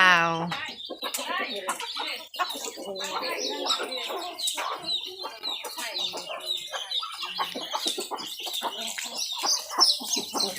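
Chickens cluck and call repeatedly at close range on a farm, with busy overlapping clucks throughout and people talking now and then.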